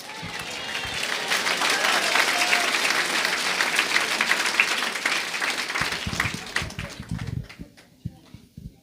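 Loud, sustained applause from a church congregation fills the space for several seconds, then thins into scattered claps and fades near the end.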